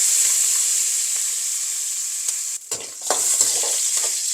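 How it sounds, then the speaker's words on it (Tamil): Green chillies, onion and garlic sautéing with curry leaves in a pan for a prawn and brinjal curry: a steady bright sizzle, then a burst of stirring and scraping near the end, close and loud, without speech. "பச்சை மிளகாய் வெங்காயம் பூண்டு இவ்வளவும் நல்லா வதக்கி கொஞ்சம் பொரியட்டும்"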